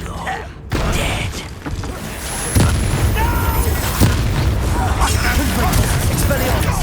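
A Confringo fire spell explodes during a Hogwarts Legacy battle, a loud booming blast followed by sustained roaring, crackling combat noise, with a voice shouting over it.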